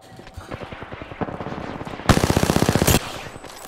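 Rapid automatic gunfire rattles in a shooter video game, with short bursts building into a loud, fast volley, then easing back to sparser shots.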